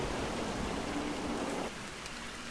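Steady rain falls in the video game Montague's Mount, a dense even hiss that drops slightly in level partway through and continues alone without voices.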